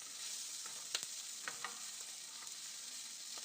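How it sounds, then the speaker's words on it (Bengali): Diced potatoes fry in oil in a pan, a soft continuous sizzle with a few light scraping stirs and crackles, fairly quiet and without any voices. "একই তেলে দিয়ে দিচ্ছি কেটে রাখা আলু"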